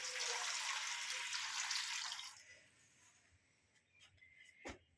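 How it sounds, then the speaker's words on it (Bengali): Water pours steadily into a bowl of dosa batter for about two seconds, a loud close rush that stops abruptly, followed by quiet drips and a soft knock. "আর একটু জল দিয়ে দিলাম"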